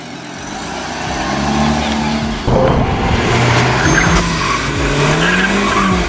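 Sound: BMW M125i car driving

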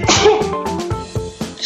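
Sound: sneeze

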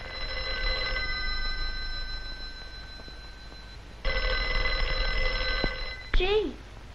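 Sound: telephone ringing

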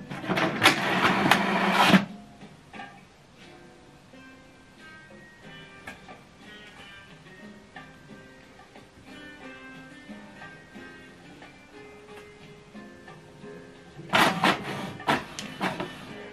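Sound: HP DeskJet 2630 printer printing an alignment page

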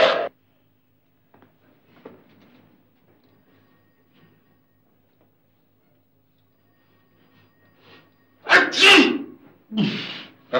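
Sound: sneeze

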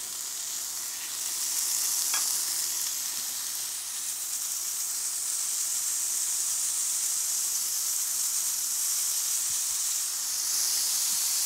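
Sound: bacon frying in a pan

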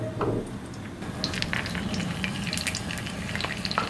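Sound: shrimp lumpia frying in hot oil

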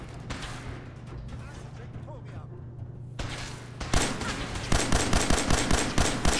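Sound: 44 revolver gunfire in Fallout 4 video game

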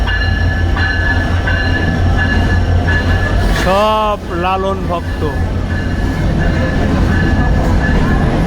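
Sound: train running, passengers riding on the roof

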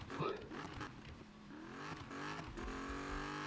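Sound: Dodge Challenger engine revving in Need for Speed video game

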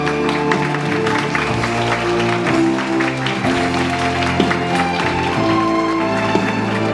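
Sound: audience applause at a ceremony

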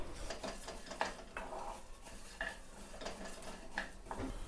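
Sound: roasting chana dal, urad dal and cumin in oil

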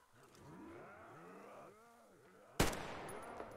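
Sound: gunshot headshot in the video game Metro Exodus

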